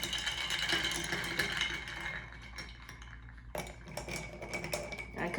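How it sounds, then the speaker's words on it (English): A spoon stirs a Bloody Caesar cocktail in a glass, giving a run of close, light clinks and scraping taps against the glass, with a brief pause mid-way before stirring resumes. "Give it a nice stir."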